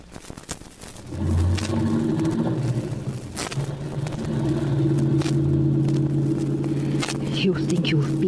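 Car engine starts and settles into a steady rumbling drive as a radio drama sound effect, loud and continuous after a brief lead-in, with voices speaking over it.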